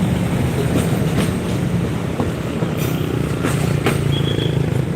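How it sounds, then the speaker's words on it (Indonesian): A Bandung Raya local train hauled by a CC 204 diesel locomotive passes close by, a loud continuous rumble with rolling wheel clatter and a few sharp squeals throughout. "Baru melintas lokal Bandung Raya menggunakan CC 204."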